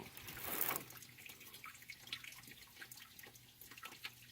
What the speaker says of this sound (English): Now get your garden hose and get in here and flush all that crap out